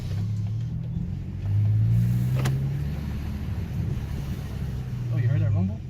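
A 2018 Honda Accord with its muffler deleted gives a low exhaust rumble from inside the cabin with windows open, swelling as the car accelerates under wind noise while people talk.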